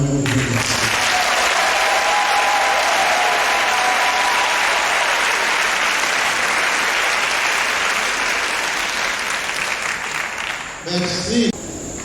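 A large crowd claps loudly and steadily in honour of Cardinal Bernard Agré of Côte d'Ivoire. The dense, sustained applause fills most of the stretch, with a voice heard briefly at the start and near the end.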